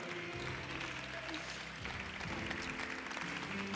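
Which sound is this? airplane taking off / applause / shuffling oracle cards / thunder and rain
applause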